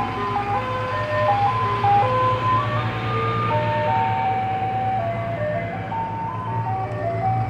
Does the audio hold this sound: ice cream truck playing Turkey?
yes